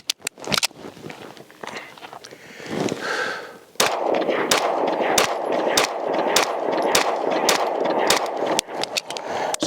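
Staccato XC pistol fired in a rapid string of sharp, loud shots, evenly spaced after a few scattered opening rounds, with outdoor echo between reports.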